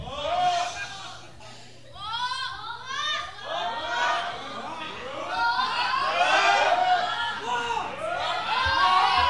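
Crowd at a TAW wrestling event (3 Stages of Hell, TaylorMade vs Nate Nitro) jeering and shouting at a wrestler, a dense continuous wall of voices and yells throughout, growing louder toward the end.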